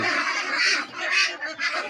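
A flock of 47-day-old farm ducks quacks in a dense, overlapping chorus, loud and close, with the calls surging in repeated waves and no speech.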